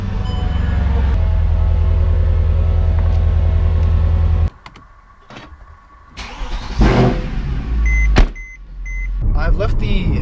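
A Mercedes C63 AMG with secondary cat and resonator deletes runs on a street test drive: a steady, loud engine drone that drops away, then revs back up with bursts and pops, heard from inside the car.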